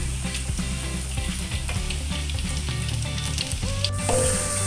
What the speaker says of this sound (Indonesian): Kita goreng tempe ya Bunda